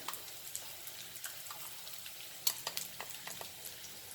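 Spices fry for Goan beef fry: red chili, coriander, cumin and garam masala powders in hot oil. A faint, soft crackle runs steadily, with scattered sharper pops and spits.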